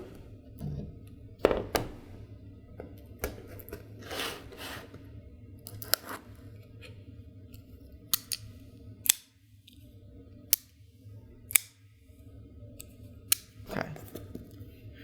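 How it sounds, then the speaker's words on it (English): A spring-loaded knife slices through the stickers on a Samsung Galaxy Z Fold 4 phone box, giving several short, sharp scraping and clicking cuts scattered over a low background rumble. "So let us cut the stickers."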